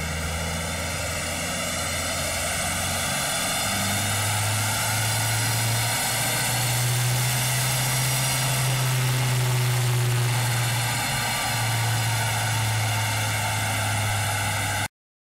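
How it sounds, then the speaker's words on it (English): An Isuzu KB300 D-Max with a 3.0 engine running on a wheel dyno, a loud steady drone with deep tonal hum that shifts pitch slightly as it holds, continuous and close throughout. "This is the dyno before run."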